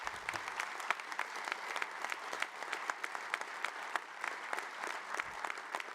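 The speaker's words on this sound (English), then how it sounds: "please applaud that" Audience applause during a municipal speech about city finances, steady clapping from a moderately distant crowd lasting the whole stretch, even and sustained without cheering.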